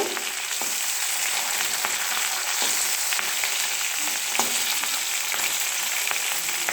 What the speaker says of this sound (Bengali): দেখো আমি মাছের মাথাগুলো ভাজছি